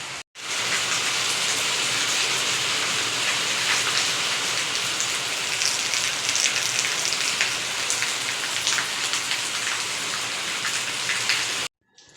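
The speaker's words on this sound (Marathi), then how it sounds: "बाहेर मस्त असा ना पाऊस पडतोय" Steady rain falls outside, a dense continuous hiss of drops on surfaces that holds at an even level for nearly the whole stretch before cutting off abruptly at the end; no voices are heard.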